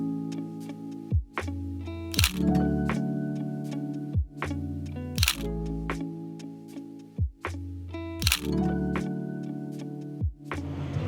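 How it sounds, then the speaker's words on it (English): Noisy street in Akihabara, Tokyo: a dense, loud mix of overlapping electronic music and jingles with repeated sharp clicks and bursts, busy urban commotion with no clear talk. "As you can probably tell, it's a bit noisy here. I'm in Akihabara"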